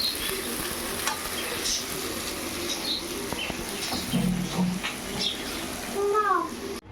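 Puti fish frying with onion in a pan, a steady close sizzle with stirring and a few scraping and clinking sounds, louder near the end.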